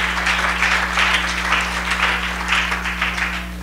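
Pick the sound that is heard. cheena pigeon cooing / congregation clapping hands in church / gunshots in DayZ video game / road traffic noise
congregation clapping hands in church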